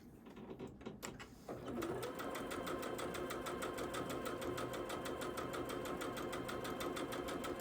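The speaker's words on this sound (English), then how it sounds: "then I can sew the rows together" A sewing machine joins rows of a 6-1/2 inch Road to Oklahoma quilt block. It starts with a few handling noises, then settles into a steady, close, rapid mechanical stitching rhythm that runs without pause to the end.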